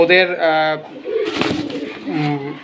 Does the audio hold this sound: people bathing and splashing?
no